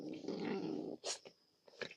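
A dog indoors gives a low, rumbling growl for about a second, followed by a few short, sharper yips and snuffles close by.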